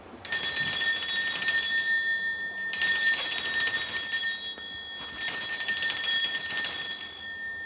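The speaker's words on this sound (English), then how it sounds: "I'm going to ring a bell." Three long bursts of a loud, shrill ringing bell, each lasting about two seconds, separated by brief pauses, close and without voices.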